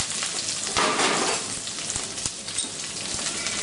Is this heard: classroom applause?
no